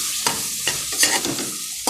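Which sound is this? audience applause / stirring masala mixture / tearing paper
stirring masala mixture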